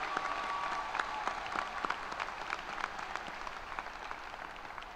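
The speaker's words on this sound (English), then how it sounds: "let's give a round of applause for AJ" An audience at a high school graduation ceremony for the Class of 2026 breaks into applause, a dense run of clapping that holds for several seconds and then slowly thins out. No one speaks over it.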